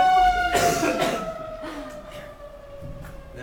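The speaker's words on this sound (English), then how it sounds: "That's our weekly siren test." A weekly siren test during a statistics lecture, heard as a steady wailing tone that slowly falls in pitch, with a couple of coughs or throat noises near the start.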